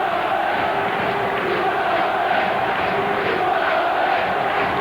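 A football stadium crowd during an FA Cup fifth-round replay produces a loud, continuous wash of cheering and chanting that swells slightly in places, with no individual voice standing out.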